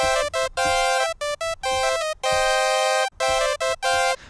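Bright synth add-four chords played in short rhythmic stabs with brief gaps, a tonal keyboard pattern repeating over about four seconds.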